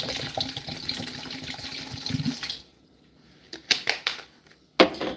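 Water pours steadily into a container for a couple of seconds, then stops, followed by a few sharp knocks and clunks.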